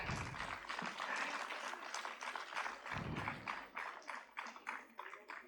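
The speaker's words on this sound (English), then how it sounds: "A big round of applause, please." Scattered audience applause at a Women's Day program, fairly quiet and somewhat distant, with individual claps audible as an uneven patter and some low rumbling sounds mixed in.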